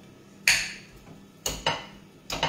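A cooked potato is mashed in a pan, heard as three separate clanking knocks of a utensil against the metal at close range, each fading quickly.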